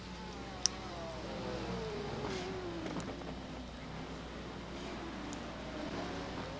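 A GT1 race car in a racing game runs hard down the straightaway at Dubai, its engine tone sweeping downward as it brakes, a steady mid-level whine with another car's pitch gliding past.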